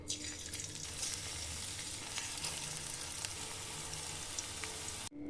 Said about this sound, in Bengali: তেলটা আমার হয়ে গেছে, এবার এগুলো আমি আস্তে আস্তে করে ভেজে নিচ্ছি